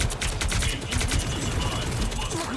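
Dense, rapid gunfire crackles in the video game Marvel Rivals, a continuous fusillade of shots layered with other game effects, loud and close.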